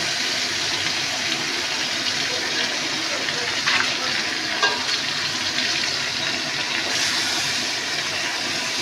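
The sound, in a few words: ridge gourd frying and sizzling in a pan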